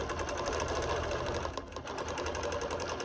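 A sewing machine stitches decorative yarn onto a quilt with a fast, steady mechanical whir that runs almost continuously and pauses only briefly once.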